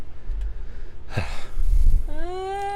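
A single close, loud yawn: a gasping intake of breath that swells into a drawn-out, rising-then-falling voiced groan near the microphone.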